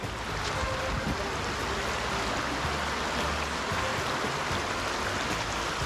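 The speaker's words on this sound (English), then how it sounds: "And what do you have? Is the river." A river flowing near a quiet road at the Verdon in France: a steady, full rush of water, close and continuous, with no voices.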